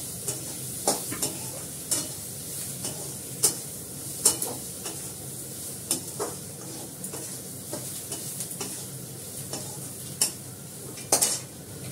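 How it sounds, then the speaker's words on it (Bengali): Radhuni and nigella seeds tempering in hot oil crackle with a steady sizzle, punctuated by frequent sharp metallic clicks and scrapes of a spoon against the pan, close up and without speech. "রাঁধুনি সঙ্গে কালো জিরে ফোড়ন।"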